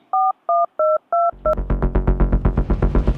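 A telephone is dialed with five short, evenly spaced keypad tones, followed by a loud, buzzing ring signal pulsing in quick repetition.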